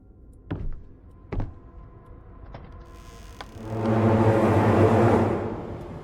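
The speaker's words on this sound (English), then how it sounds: "That's the sound of the monster being nearby, I guess." A couple of dull knocks and clicks, then a swelling low rumbling drone signaling a nearby monster in the horror game Visage builds, holds loudly, and fades slightly, with no voices.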